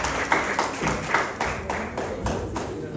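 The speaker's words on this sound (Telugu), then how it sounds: "మీరు ఇప్పుడు గట్టిగా చప్పట్లు కొట్టప్పుడే" An audience claps loudly and steadily in an even, fast rhythm after a dance performance, the claps dense and close, with no talking over them.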